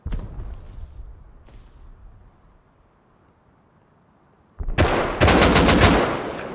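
An AK rifle fires in a video game as a sudden loud burst of rapid automatic shots near the end, after a few seconds of quieter game ambience with faint thumps.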